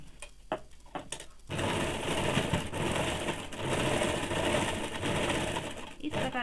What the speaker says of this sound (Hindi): इस प्रकार से मैं दोनों साइड का सिलाई कर लूँगी।